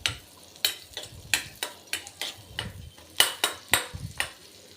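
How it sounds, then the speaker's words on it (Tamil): Thudhuvalai leaves being lightly sautéed in a pan, heard as a regular series of sharp spatula scrapes and taps on the pan roughly every half second, close and clear, with no talk. "இதை லைட்டாக நான் வதக்கிக்கிறேன்."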